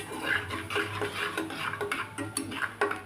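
A masala mixture with chilli powder for egg biryani is stirred in a pot, giving a steady rhythmic series of scraping strokes and light metallic taps repeating about twice a second, close by.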